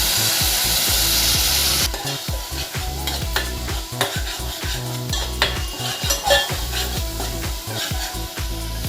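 Onion and tomato paste frying in hot oil for a mango fish curry, stirred steadily with a utensil scraping the pan; a constant loud sizzle with rhythmic stirring clatter, no voices.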